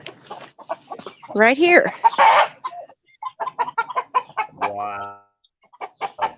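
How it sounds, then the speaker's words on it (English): Chickens cluck and call in short bursts near the start and again toward the end, loud and close, while people talk over and between them. "I'd like to see the chickens that are crying, though."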